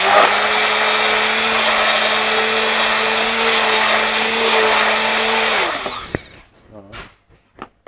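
A mixer blending cream filling for a children's birthday cake, a loud steady whir for about six seconds that then spins down and stops, followed by a few light knocks and clatters.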